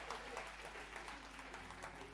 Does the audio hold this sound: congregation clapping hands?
yes